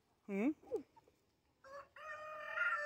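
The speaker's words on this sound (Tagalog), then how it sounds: "Ito na yata pinakamalaking manok na nakita ko." A large orange chicken makes a few short rising clucks and calls, then a longer sustained crow-like call. Quiet background, fairly close.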